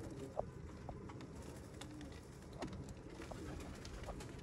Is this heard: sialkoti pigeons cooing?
yes